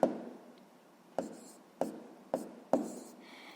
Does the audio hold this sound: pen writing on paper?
yes